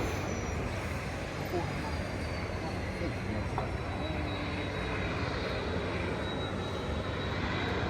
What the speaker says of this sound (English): it is pretty cool to see these fighter planes take off from the observation deck